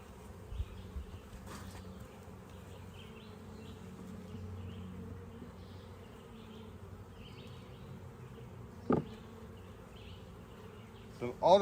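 Honey bees hum in an open beehive, a soft, continuous buzzing drone close by, with occasional clicks and knocks from handling the hive frames.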